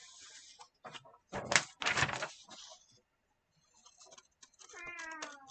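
A house cat meows a few times close by, short scattered cries with some bumps and rustling between them, fairly faint overall.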